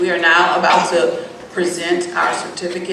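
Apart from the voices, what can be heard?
No everyday noise stands out behind the speech.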